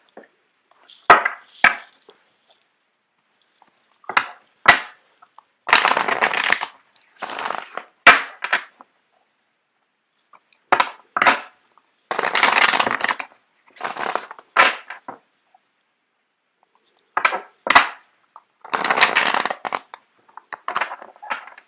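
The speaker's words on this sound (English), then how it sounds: "I'm going to shuffle out the cards for you guys." Tarot cards being shuffled close up in short, crisp bursts of riffling and slapping, separated by brief silent pauses, with no talking.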